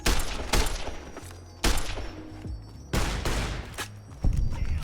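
Gunfire in the video game Fallout: New Vegas comes as four heavy, booming shots spaced about a second apart, each ringing out with a low rumbling tail, loud and close with no talk.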